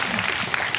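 Students at a high school career lecture burst into applause for their principal and teachers, a dense, steady wash of many hands clapping together at close range, brief and sustained throughout.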